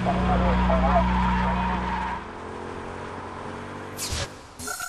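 Racing engines from a McLaren Mercedes Formula 1 car and Mercedes-Benz road cars roar loudly during a staggered-start race, then fade, followed by sharp skidding and tire-squeal bursts, with a voice talking underneath.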